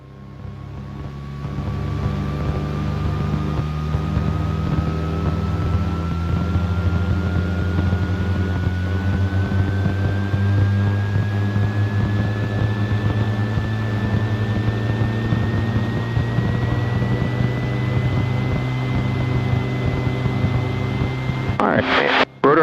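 A Rotorway helicopter's rotor spinning up toward 100% RPM: a steady, loud engine and rotor drone whose pitch rises slowly and smoothly over about twenty seconds, ending in a short clatter.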